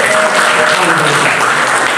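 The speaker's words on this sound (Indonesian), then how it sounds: "Angkat tangan dua-dua dan berikan tepuk tangan yang berbahagia" A church congregation at a prayer and fasting gathering on Mount Salak, Bogor, claps continuously and loudly, a dense, sustained wash of applause with no pauses.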